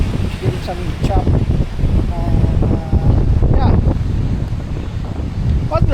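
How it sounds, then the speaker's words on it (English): Strong wind blows across a fishing pier in Virginia, buffeting the microphone with a loud, constant rumble, while voices talk faintly beneath the gusts. "Getting too windy."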